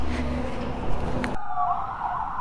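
Police and ambulance sirens wail at night along a highway. The siren is loud and near, and its wailing tone carries on after an abrupt change in the background rumble.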